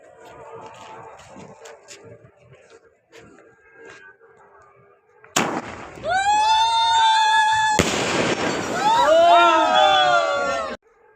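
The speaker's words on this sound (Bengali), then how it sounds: "বন্ধুরা অনেক কড়া ফাটছে।" Fireworks and firecrackers burst at a New Year celebration. Faint pops and crowd murmur come first, then loud close crackling bursts and whistling, fizzing shells, with people's voices mixed in.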